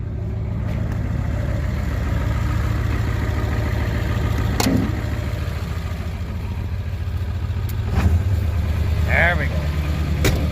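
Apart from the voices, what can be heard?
engine revved up to high idle, straight pipe exhaust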